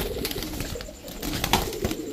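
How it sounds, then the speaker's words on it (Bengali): Pigeons at a street pigeon seller's stall, including Pakistani highflyer breeds, coo in low murmuring bursts amid busy background noise, with several overlapping calls close by. "দেখেন 2 জোড়া কবুতর, 1 জোড়া সাপচিলা 1 জোড়া কালদম।"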